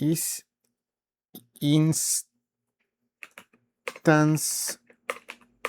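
Brief bursts of clicking keystrokes on a computer keyboard while coding, separated by pauses, with someone speaking between and over the typing.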